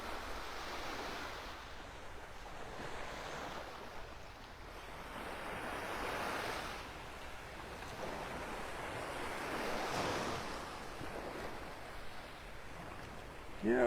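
Ocean waves wash steadily onto a sandy Gulf beach at Delnor-Wiggins in North Naples, Florida, a continuous surf roar swelling and easing in broad surges, with light wind noise and no voices.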